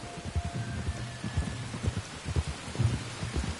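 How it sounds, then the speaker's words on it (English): Steady rain falls in Red Dead Redemption 2, a continuous wash of patter with soft low thumps mixed in, moderately loud and with no voices over it. "You were right about the damn rain."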